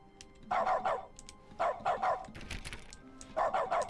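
A human voice imitates a dog's barking in bursts of three or four quick woofs with short pauses between, fairly close and clear, during play of The Stanley Parable.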